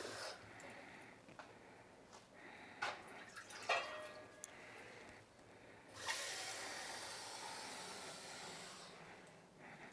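Water pours steadily into a pot with a hollow, splashing rush that builds over several seconds, preceded by a few faint clinks and handling sounds.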